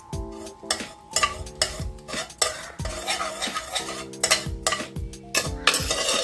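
Cooked moong dal for rava pongal is mashed in a metal pot, a busy run of clanking and scraping spoon strokes against the pot with a light sizzle underneath, close and with nobody talking.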